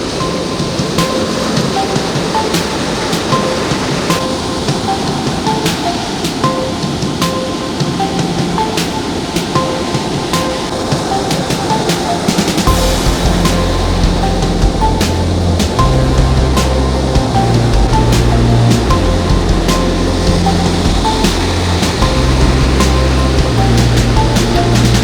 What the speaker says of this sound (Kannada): ಮಳೆ ಮತ್ತು ಗಾಳಿಯ ಒತ್ತಡಕ್ಕೆ ಸಮುದ್ರ ಪ್ರಕ್ಷುಬ್ಧಗೊಂಡಿದೆ